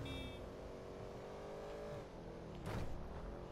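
A fast car in GTA Online drives with a steady, loud engine drone, its pitch sliding down midway before a brief louder burst near the end.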